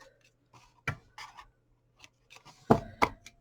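Scissors make a few sharp, close snips through ribbon tails on a candle gift box, spaced irregularly with quiet gaps between the cuts and no talk.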